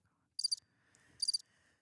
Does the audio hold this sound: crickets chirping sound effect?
yes